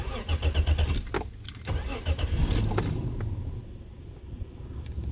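A Toyota Mark II GX100 engine starts with a brief cranking burst, then settles into a low, quiet, steady idle heard close and alone.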